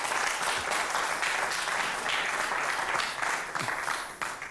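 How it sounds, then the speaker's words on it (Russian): Studio audience applauding a guest on a talk show, steady dense clapping throughout that tapers slightly at the end. "Поехали, друзья, под ваши аплодисменты."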